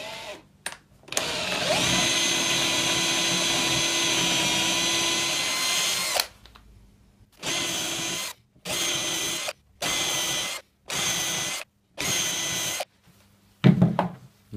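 A power drill, its bit taped as a depth stop, whines steadily for several seconds drilling into a plastic lid, then runs in a series of short bursts separated by pauses, close up with no voices.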